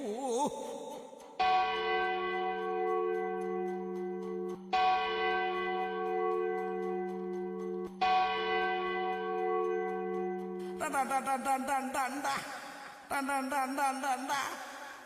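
A bell rings in a Chakyar Koothu performance in Thodupuzha, repeated long resonant tolls, each decaying slowly, followed by a busier, brighter stretch of overlapping bell strokes toward the end.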